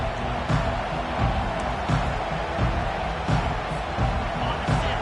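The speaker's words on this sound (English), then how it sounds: "This crowd bringing an ear-splitting welcome to their visitors." A loud stadium crowd roars through a college football kickoff and return, a dense, continuous wall of cheering with periodic swells.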